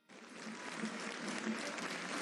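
Warm, sustained applause from a large crowd welcoming the president of Mexico, Andrés Manuel López Obrador, at a public event for the Tren Maya, rising quickly and holding steady as a dense wash of clapping.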